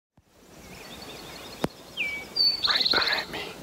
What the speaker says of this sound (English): The northern bobwhite quail.